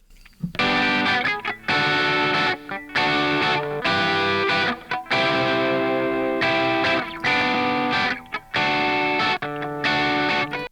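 Electric guitar through a vintage smoothing plugin plays sustained distorted chords in phrases with brief gaps, the tone thick and smooth rather than harsh, alone without voices.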